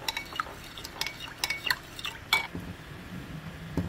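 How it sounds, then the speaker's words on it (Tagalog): Maja blanca mixture of dissolved cornstarch being stirred nonstop in a pot, a utensil scraping and knocking in an uneven rhythm of soft clinks and swishes, close and fairly quiet, with no talking. "Walang tigil na to ng halo."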